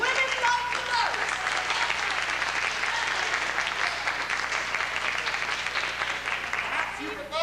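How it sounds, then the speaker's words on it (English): An audience applauding to vote for a tale at a Canterbury Tales performance, sustained loud clapping from a large crowd, with scattered voices and cheers mixed in throughout. "vote with your applause"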